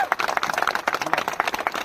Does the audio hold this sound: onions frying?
no